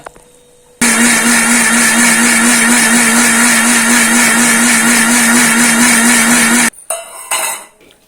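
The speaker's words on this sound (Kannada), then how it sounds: "ಸ್ವಲ್ಪ ರುಬ್ಬಲಿಕ್ಕೆ ನೀರು ಇದನ್ನು ರುಬ್ಬುವ ಈಗ" A kitchen mixer grinder whirs loudly and steadily for about six seconds, grinding ragi with jaggery and water for ragi juice, its motor hum unbroken until it stops abruptly, followed by brief clattering handling sounds.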